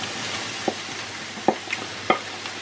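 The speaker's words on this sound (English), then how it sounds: "So the onions are now soft, and then we add in our button mushrooms" Button mushrooms go into a pan of softened onions for risotto: a soft, constant frying sizzle broken by a few sharp clacks and knocks as they land and get stirred, no voices.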